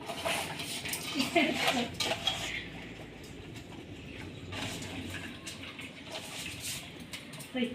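Fish being rinsed in a pot after being rubbed with salt and turmeric, for a home-cooked fish curry; steady clatter of the pot and utensils with sloshing and scraping, fairly close, with bursts of handling throughout.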